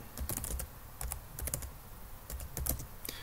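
Fingers tapping out a password on a computer keyboard while setting up a Raspberry Pi: quick clusters of crisp key clicks with short pauses between bursts, close and fairly quiet, no talking.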